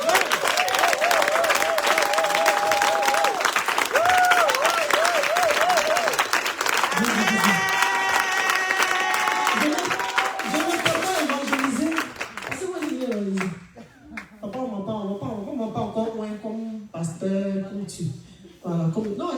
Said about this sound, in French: applaudis ce Dieu.